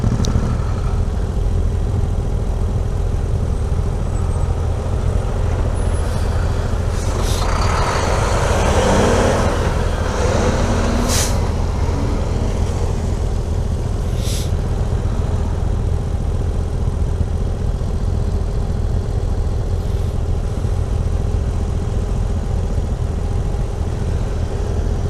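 Road traffic idles and rumbles at a town intersection with three lanes of waiting cars and trucks, a steady low engine drone filling the scene, with brief brighter hissing bursts that could be air brakes releasing.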